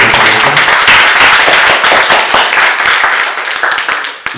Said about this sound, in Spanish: Por favor, un aplauso para concluir su conferencia.